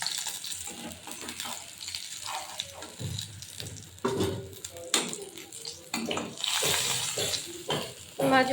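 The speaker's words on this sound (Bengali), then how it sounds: "এইভাবে সব মাছগুলোই আমি ভেজে নেব।" Rohu fish frying in oil, a moderate sizzle punctuated by clinks of a spatula and pan, with brief voices partway through.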